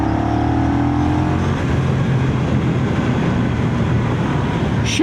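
A 2025 Honda CMX1100 DCT motorcycle accelerating hard in sport mode, a loud, close, continuous engine roar with rising pitch as the quick-shifting gearbox climbs, mixed with rushing wind noise.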